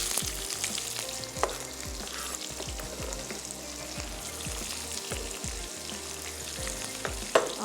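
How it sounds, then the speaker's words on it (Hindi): Sliced onions sizzle and fry in a hot pan, with a steady crackling hiss and occasional stirring clatter throughout, no voices present. "चलिए, अब मैं इसमें प्याज शामिल कर देती हूँ।"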